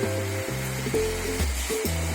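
Onions sizzle and hiss steadily in hot oil while an onion pickle is cooked, a broad frying crackle with periodic stirring shifts and no talk.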